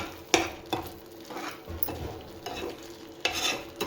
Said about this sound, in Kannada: ಇದು ಸೀಗಡಿ ಇದರ ಮಸಾಲೆ. ಮತ್ತು ಇನ್ನೊಂದು ಸ್ವಲ್ಪ ತುಪ್ಪ ಹಾಕ್ಕೊತಾ ಇದ್ದೀನಿ.